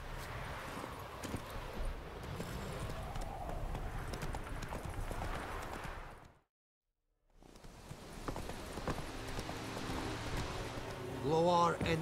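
Steady clip-clop of horse hooves in the game The Witcher 3: Wild Hunt trots along continuously, broken by a brief silence, then resumes with faint voices and other game sounds.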